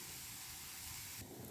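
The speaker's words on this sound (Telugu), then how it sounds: "చిన్న కాకరకాయలు వచ్చేసి. ఇవి ఇలా అయితే వేగుతున్నాయండి." Small bitter gourds (kakarakaya) fry in a pan with a steady close sizzling hiss that swells slightly louder near the end, with no talking.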